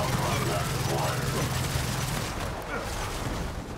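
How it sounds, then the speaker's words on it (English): Gears of War 4 campaign combat fills the mix with dense, continuous booming explosions and gunfire, a heavy roar that stays loud throughout while a voice speaks over the din. "it's so funny that I can't hear anything right now over the explosions happening"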